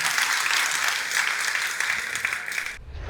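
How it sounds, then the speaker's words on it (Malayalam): An audience at an awards function honouring an ICDS office's three state awards claps in a dense, sustained burst of applause that cuts off abruptly near the end. "ഈ ഒരു കയ്യടി പോരട്ടെ."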